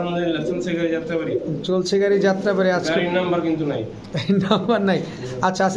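Pigeons of fancy breeds such as Pakistani Teddy, Rampuri and red Gola coo in a close, dense run of soft, rolling calls, with people talking alongside.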